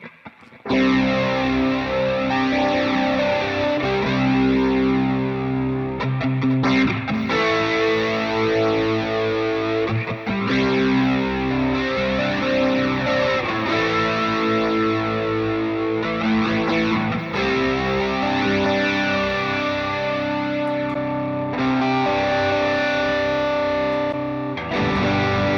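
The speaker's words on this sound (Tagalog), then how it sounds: "So, pwede natin ilagay yung distortion," An electric guitar plays through a distortion effect on an M-Vave Chocolate controller running G-P50 stomp box mode. Sustained chords ring loud and thick, changing every few seconds with a continuous gritty, compressed tone.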